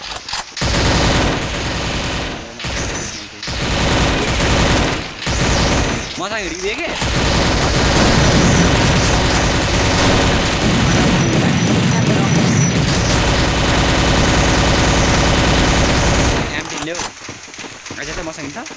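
Rapid bursts of video game gunfire crackle almost continuously, loud and dense, with a few brief gaps and sporadic booms, while a player talks over the shooting throughout.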